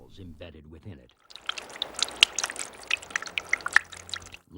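Water drips inside a limestone cave, a sparse series of bright, echoing drops with a trickling undertone following a brief stretch of speech.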